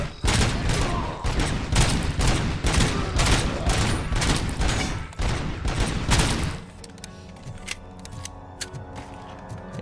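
Rapid bursts of gunfire in RoboCop: Rogue City hammer away loudly for several seconds, then cut off, leaving quieter electronic tones and occasional sharp clicks.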